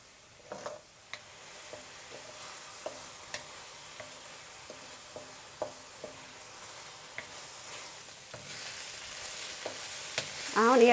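Onions and tomatoes for Ethiopian tibs firfir sauté over a high flame with a quiet, even sizzle. Sharp stirring taps sound at a steady pace, and the sizzle swells louder near the end.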